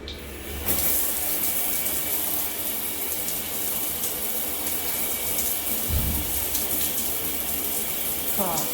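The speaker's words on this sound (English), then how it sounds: "Okay, shower time." Shower running inside an RV, a loud continuous hiss of spraying water that starts abruptly and keeps steady, with faint splashes and shifts as someone moves under it.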